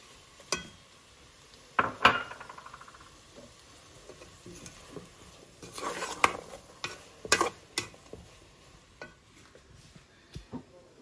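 Cooked chicken being stirred into egg fried rice in a pan, with scattered scrapes and clinks of a spatula against metal over a soft sizzle, the strokes irregular and close.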